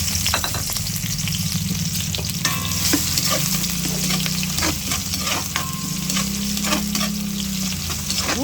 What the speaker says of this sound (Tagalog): Magigisa na tayo, ano?